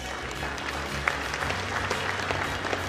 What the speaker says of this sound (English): this definitely calls for a huge round of applause